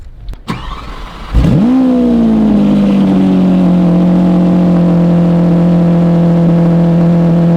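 A Liberty Walk Lamborghini starting up: a short cranking burst catches into a loud, close engine roar that quickly settles into a steady, heavy idle and holds it.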